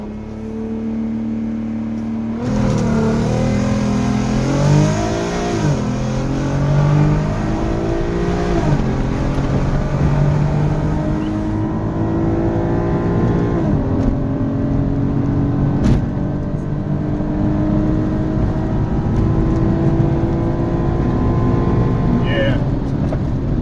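A MK2 Audi TT Quattro with a ported throttle body launches hard, engine revving up through rising gear pulls with a steady loud drone and whir from inside the car, continuing for over twenty seconds.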